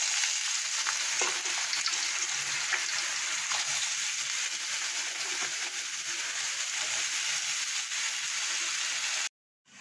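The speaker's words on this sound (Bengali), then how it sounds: "এখানে সরু সরু করে আলু কেটে নিয়েছি, আলু ভাজা হবে" Thin-cut potato strips fry in hot oil in a wok, a continuous dense sizzle and crackle at moderate level that runs unbroken for several seconds before stopping suddenly.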